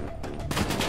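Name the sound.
gunfire in video game Call of Duty Black Ops 3 campaign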